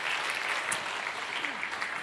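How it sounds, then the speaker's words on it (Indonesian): Church congregation applauding during a sermon at a service, a steady, fairly quiet wash of clapping that carries on evenly for about two seconds. "Beri tepuk tangan dong buat Tuhan Yesus."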